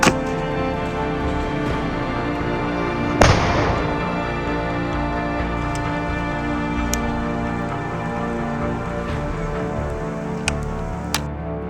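An RPO-A Shmel airsoft grenade launcher fires once, a single sharp, loud report a few seconds in, set against a steady humming background with a few faint clicks afterward.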